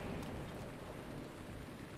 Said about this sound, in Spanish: Y está lloviendo, no me lo puedo creer.